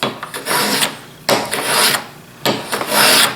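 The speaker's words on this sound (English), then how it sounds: "Now it's just a matter of planing this down" Three long rasping strokes of a hand plane shaving down a wooden custom chisel cover, close and loud with short pauses between passes.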